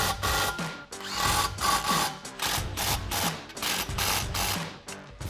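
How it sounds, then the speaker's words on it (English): Socket tool tightening clamps on a 2024-2026 Mustang GT cat-back exhaust, a dense run of fast ratcheting clicks and mechanical rattling that carries steadily and close throughout with brief dips. "grab your 15mm socket and tighten down your clamps"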